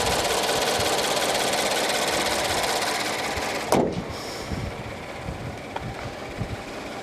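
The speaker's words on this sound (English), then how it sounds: "The car is running right now, as you can tell, and this is what it sounds like at idle." A 2014 Subaru BRZ Limited idles with a steady, even engine hum and light ticking, heard close up; a sharp knock briefly punctuates the idle midway before the smooth running continues.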